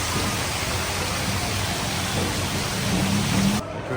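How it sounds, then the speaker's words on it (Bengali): Heavy rain pours outside a restaurant in Dhaka, a dense steady hiss of falling water that cuts off abruptly at the end. "পানির অনেক শব্দ বৃষ্টি হচ্ছে"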